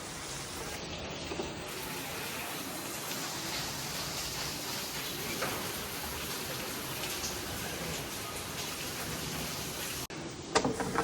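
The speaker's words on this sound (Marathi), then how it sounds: "आणि एवढा जास्त पाऊस येतो आहे" Heavy rain pours steadily in a continuous, even wash of noise for about ten seconds, with a few nearby knocks near the end and no speech.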